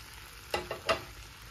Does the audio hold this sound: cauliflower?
yes